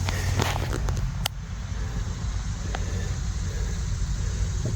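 A 1969 Chevrolet C20 truck engine runs loud and steady nearby, a constant low rumble with a few sharp clicks and knocks in the first second.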